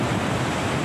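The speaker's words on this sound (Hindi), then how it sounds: "वाटर आप देख रहे हैं किस तरीके कल कल की आवाज़ के साथ" Water of the Keoti waterfall pours and splashes in a steady, loud, broadband rush, close by and unbroken, with no voices.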